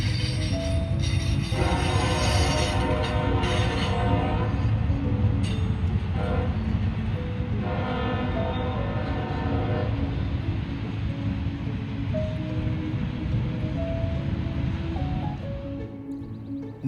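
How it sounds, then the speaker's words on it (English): A long intermodal container train rumbles past steadily, wheels and cars grinding with a continuous low roar, horn-like tones sounding at times, loud and close throughout. "we have what I thought was an intermodal train, with containers that I've never seen before."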